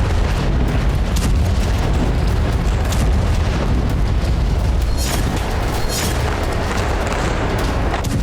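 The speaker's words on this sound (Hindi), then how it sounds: "ऐसे में अस्पताल के आसपास लगातार धमाके हो रहे हैं।" Shelling near the Indonesian Hospital in Gaza: a sustained loud, dense roar of booming blasts that runs for the whole stretch with no quiet gaps, several sharper bursts standing out around the middle and later, and no talk.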